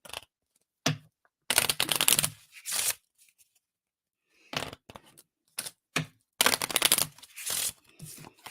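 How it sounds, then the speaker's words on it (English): A deck of playing cards is shuffled in several crisp riffling bursts with short pauses between them, then a single card is drawn, close and clear in a quiet room. "And we're just going to pull one card."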